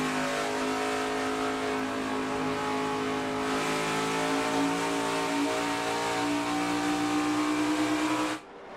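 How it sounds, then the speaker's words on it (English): A NASCAR Xfinity race car at Darlington Raceway revs on track, its engine droning loud and steady with shifting pitch for about eight seconds before cutting off abruptly near the end. "Listen to the work that Gregson's doing as we look at the telemetry as well"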